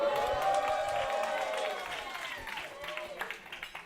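A live comedy show audience in Brooklyn cheers, whoops and claps in a dense, loud wash of crowd noise that holds steady, then thins slightly toward the end with scattered shouts.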